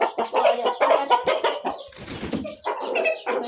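A Chinese bald rooster in a village clucks in a busy, continuous run of close, loud calls, with a brief burst of wing flapping and other fowl noise in the middle.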